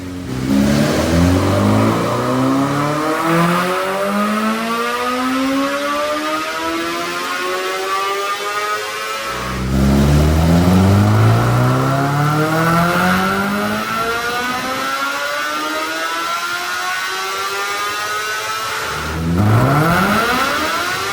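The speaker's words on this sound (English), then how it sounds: "now I'm going to run on the dyno and see how much power she makes with the stacks" A 2022 BMW S1000R motorcycle fitted with velocity stacks, revving hard on a dyno: three loud, rising wide-open runs climbing to a high scream, each cutting back before the next pull begins.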